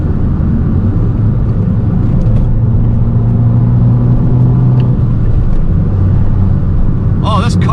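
Fiat 595 Abarth driven on back roads, a loud steady in-cabin engine drone and road rumble at high revs with shifting tones, and a person talking over it; distinct exhaust pops are not clearly picked out.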